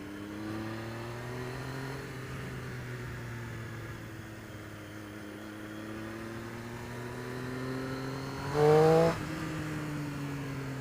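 A Triumph Street Triple 675 motorcycle engine drones steadily while riding, its pitch shifting gradually with small throttle changes, then rising through a brief sharp rev before settling again, with steady wind noise underneath.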